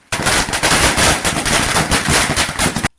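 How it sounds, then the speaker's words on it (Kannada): Firecrackers burst at a devotees' celebration, a loud rapid string of cracks that pop continuously for nearly three seconds before cutting off abruptly. "ಭಕ್ತ ಮಂಡಳಿಯ ಸದಸ್ಯರು ಪಟಾಕಿ ಸಿಡಿಸಿ ಸಂಭ್ರಮಿಸಿದರು"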